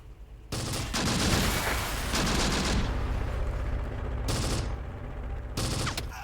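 Sustained bursts of gunfire and mortar fire from the Close Combat war game, loud and dense from the start, with a dense barrage that eases and then returns in short sharp volleys near the end.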